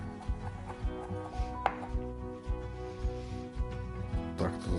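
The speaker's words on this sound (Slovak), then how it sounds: "Zľahka presekáme." Knife lightly chopping parsley and garlic sprouts on a cutting board, a quiet series of quick, irregular taps close by, with no talk over them.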